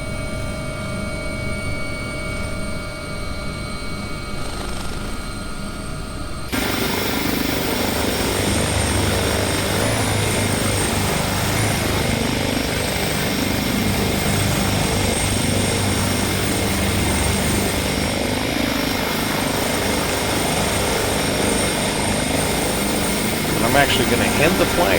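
Helicopter holding an auto hover, a steady, close rotor and engine drone that suddenly grows louder a few seconds in and then stays constant, with a voice speaking over it.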